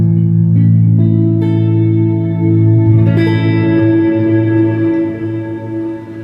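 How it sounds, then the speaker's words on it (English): A clean tube amp head rings out a sustained guitar chord, an A, drenched in reverb with a Plethora X5 pedal added; the notes bloom, get restruck, and then decay in a loud, full wash with no talking. "There's that reverb."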